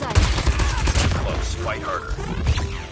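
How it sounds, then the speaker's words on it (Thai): Krig 6 rifle fire in Call of Duty Mobile: loud bursts of rapid gunshots with booming impacts up close, mixed with other game effects and some background voice. "เสียงปืนโคตรเฟี้ยว"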